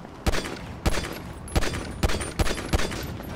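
Gunfire in GTA V Online rings out in sharp, loud bursts, roughly six shots spaced unevenly over a few seconds, with brief echoing tails between them and no talk.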